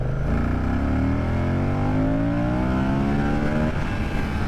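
A Moto Guzzi V100 Mandello motorcycle in sport mode, heard from the rider's position. The engine drones loudly and continuously, its pitch climbing as it accelerates and then steadying, with wind rush throughout.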